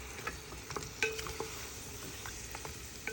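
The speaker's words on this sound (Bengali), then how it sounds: "একটু নেড়ে নিব।" Goat trotters are stirred into fried spice paste in a pressure cooker, giving faint scraping and soft clinks over a quiet, low sizzle, with no voices.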